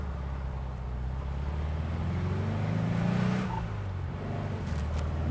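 A 1964 Porsche 356 SC 1600 cabriolet pulls out into normal traffic, its engine droning steadily up close with a low rumble that swells slightly midway and then settles, no one speaking.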